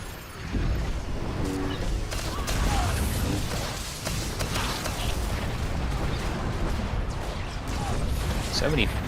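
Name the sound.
explosions and fire in a video game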